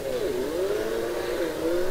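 A rally car engine in Richard Burns Rally holds a steady, loud drone that dips and climbs slightly as the throttle shifts, sounding alone without any talk.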